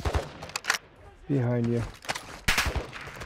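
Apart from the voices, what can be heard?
gunfire in a video game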